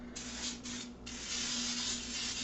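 Baking oil sprays in a steady hiss into a 9 by 13 baking dish, one long continuous blast with a brief pause partway through, close and fairly loud.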